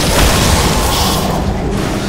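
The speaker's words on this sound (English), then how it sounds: "Dire's top tower has fallen" Heavy rumbling crash of a tower collapsing in the video game Dota 2, a dense loud boom that holds steady and slowly thins out over about two seconds, with no talk.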